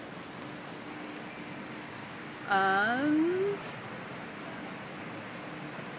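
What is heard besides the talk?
rain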